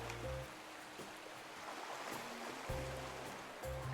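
Ocean waves in the video game Love and Deepspace, a soft continuous wash of surf behind recurring low tonal music notes, with no voices.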